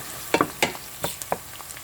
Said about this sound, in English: I'm going to add my garlic. So sweat this one until this is slightly golden brown